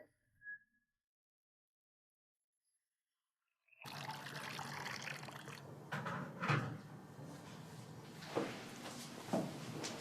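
Water poured into a cup for a guest indoors, starting suddenly after a few seconds of near silence and running as a steady close pour with a few brief knocks and clinks.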